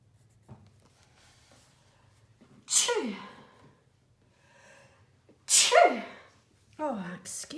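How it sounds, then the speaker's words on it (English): Sharp sneezes burst out loudly, two big ones a few seconds apart and a smaller one at the end, each with a quick gasp before it, in a quiet room with soft breaths between. "I'm sorry for all the coughing and sneezing."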